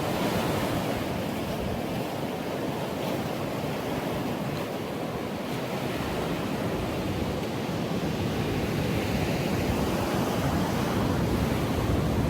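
Ocean waves break on a Barbados surf beach as a steady, broad roar of surf, mixed with gusty wind buffeting the microphone throughout.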